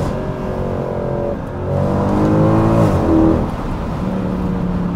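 A Mercedes C63 AMG engine revs hard and then downshifts, its pitch climbing and falling through a couple of gear changes, loud and close, with no talk over it.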